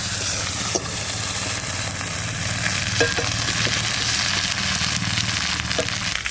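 Potatoes frying in a spiced masala of ground ginger, cumin and dried red chilli give a steady, loud, close sizzle, with a few faint clicks of stirring throughout.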